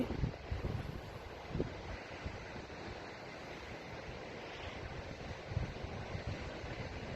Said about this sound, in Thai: ทั้งหนาวทั้งลมทั้งฝนนะคะ เพื่อน ๆ ทั้งฝนทั้งหนาวทั้งลมอยุดอยู่หน้าผานะคะ